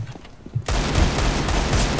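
Gunfire erupts abruptly in a video game after a short near-silence, then holds as a loud, dense, continuous volley to the end with no voices over it.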